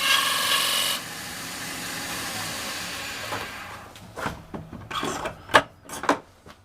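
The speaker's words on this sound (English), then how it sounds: "A little bit of a burnish with a natural bristle brush." A turned wooden piece spinning on a lathe is burnished with a natural bristle brush: a steady rough brushing hiss at first, then quieter, followed by scattered rubbing scrapes and taps.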